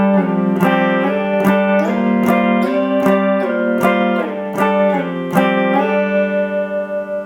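An electric guitar plays a riff, plucked double-stops with gliding slides between positions, ending on a ringing, wavering held chord.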